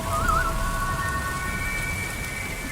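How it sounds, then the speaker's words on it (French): Heavy pouring rain hisses steadily in a horror role-play ambience, with a thin high whistling tone drifting over the dense downpour and low rumble underneath; no voices. "malgré la pluie battante qui fait que tu n'entends pas tes amis"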